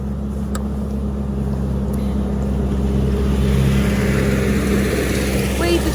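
A tractor rumbles past outdoors with a low steady engine drone that swells slightly as it nears, while a person talks over it.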